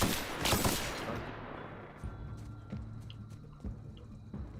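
Enemies open fire with guns in The Outer Worlds: a loud, dense burst of gunfire at the start, followed by scattered single shots and softer impacts spaced over several seconds.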